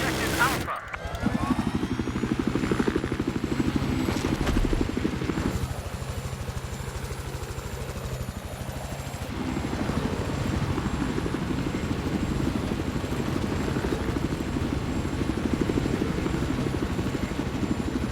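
Helicopter flying in the video game Battlefield 4, a continuous loud rotor and engine drone that shifts in tone over the clip, with occasional game sounds and voices over it.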